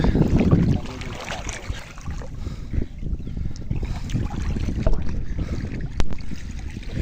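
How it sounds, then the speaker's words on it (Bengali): A boat is hauled in on the wind-swept Gorai River, swollen after days of rising water. Gusty wind buffets the microphone over churning water and scattered knocks and scrapes, with a sharp bump near the end. "নৌকাটা টেনে তোলা হচ্ছে।"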